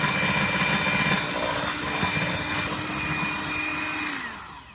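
Electric mixer creaming room-temperature butter for blondie brownies, a steady close whirring drone that continues throughout and tapers off at the end.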